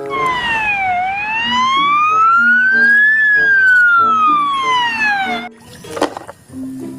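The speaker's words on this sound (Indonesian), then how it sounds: "yang ini mobil ambulan teman-teman" A toy ambulance siren wails loud and close, its electronic tone sweeping up and down in a steady cycle for about five seconds, then cutting off into brief clattering handling noises.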